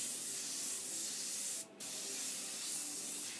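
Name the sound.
airbrush spraying paint on a t-shirt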